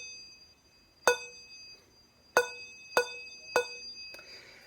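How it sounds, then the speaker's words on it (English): Four bright metallic handbell strikes, each stopped quickly into silence by a thumb damp, spaced unevenly, with a soft rustle at the end. "One last kind of sound that you can hear with the bells is called a thumb damp"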